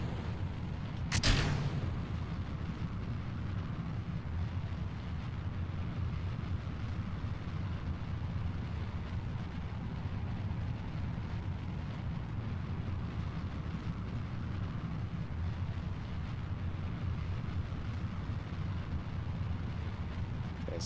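Steady rocket engine roar at one-third throttle in a spaceflight game, a continuous low broadband rumble holding level throughout after a sharp brief burst near the start.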